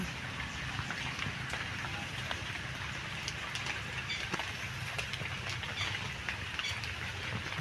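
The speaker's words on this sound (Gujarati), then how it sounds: "જો ઝરમરીય વરસાદ" Soft, steady rainfall patters in the distance, a faint even hiss with scattered tiny droplet ticks throughout.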